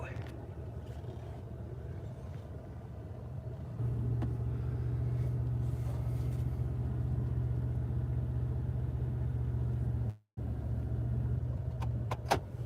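Ford F-150 twin-turbo pickup truck driving, with a steady low engine and road rumble throughout that grows slightly louder partway in, briefly cut by a gap near the end.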